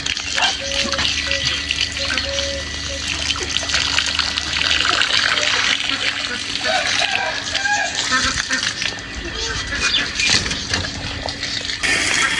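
Water trickles and splashes steadily as it is poured into water containers for pet birds such as ringneck parakeets and ducks, continuing throughout while someone talks over it.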